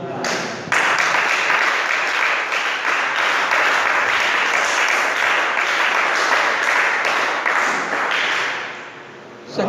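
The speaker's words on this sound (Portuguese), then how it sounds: "Dê um aplauso para Ele." Congregation applause at an evangelical church service, a dense steady wash of clapping that swells quickly, holds for several seconds and then tapers off near the end.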